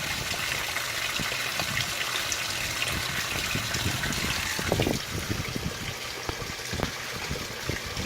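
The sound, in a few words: Speed Queen washing machine filling with water for rinse of flannel sheets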